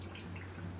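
Soaked urad dal draining in a strainer drips water faintly and briefly, soft trickling with a low background hum and no voices.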